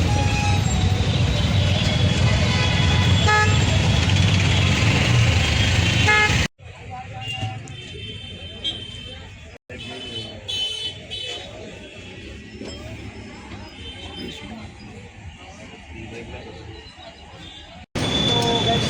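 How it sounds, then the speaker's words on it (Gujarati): Busy street traffic in the town of Deesa, with vehicles rumbling and horns tooting. It is loud at first, then drops to a quieter, steady background of passing traffic. "ડીસાનું ટ્રાફિક જ અલગ છે."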